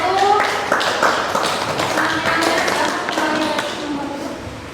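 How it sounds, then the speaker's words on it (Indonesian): Scattered applause for a student group at the end of their presentation in an Indonesian teacher-training exam session on freshwater fisheries agribusiness, indoors, with overlapping voices throughout. "Silakan berikan tepuk tangan untuk kelompok 1."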